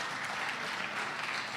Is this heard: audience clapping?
yes